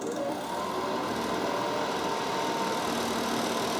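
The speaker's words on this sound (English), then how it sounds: "when I do this short press, the compressor will automatically kick on and the fan will default to medium" A battery-powered portable air conditioner runs steadily, its compressor and fan on medium setting giving a continuous mechanical hum with a broad airy whoosh, close and even throughout.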